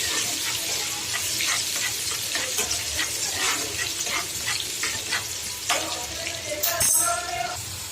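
Garlic and onion sauté in a hot pan with a close, continuous sizzle, broken by repeated scraping stir strokes and a sharper clatter near the end.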